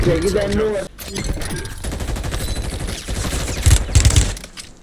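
Gunfire fills a match of the video game Call of Duty: Warzone, with sustained automatic bursts and heavy low thumps toward the end, all loud and close beneath players talking over voice chat.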